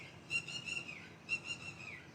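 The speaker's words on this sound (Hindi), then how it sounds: "पक्षियों की चहचहाहट" Birds chirp faintly outdoors in two short bursts of thin, high calls, roughly a second apart, over a quiet, steady background.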